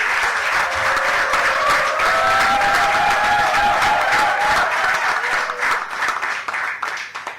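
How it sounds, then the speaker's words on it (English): Steady, full applause from an audience at a memorial lecture, many hands clapping densely for several seconds before tapering into scattered claps, with faint tones beneath. "Friends, let us all give a round of applause to this comrade"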